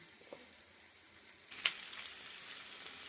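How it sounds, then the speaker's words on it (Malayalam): Steady sizzling of chicken frying in oil, fairly quiet, with a brief clink of a utensil partway through. "ചിക്കൻ വറുത്തു കോരി"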